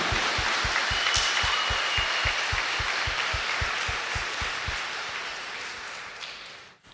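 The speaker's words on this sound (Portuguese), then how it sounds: "Brada uma salva de palmas para Nossa Senhora" Sustained applause from a church congregation honoring Our Lady at an evening Mass for the Immaculate Conception, a dense wash of clapping with a steady rhythmic beat underneath, fading out at the end.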